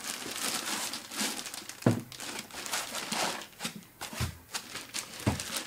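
Plastic bag and closed-cell foam packaging rustle and crinkle while an NAD C388 integrated amplifier is unpacked, with a desiccant bag removed. The crinkling runs continuously and close by, with a few sharper handling bumps and no talk.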